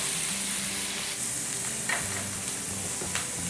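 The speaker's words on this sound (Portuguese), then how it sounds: "Minha cebola já está fritando," Thin onion rings fry in fat in a pot, giving a steady loud sizzle and crackle, with a few stirring scrapes breaking through the constant hiss.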